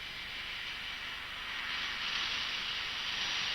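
Parked aircraft with their engines running, a steady far-off jet whine and hiss that swells slightly louder midway, faint and continuous with no talk.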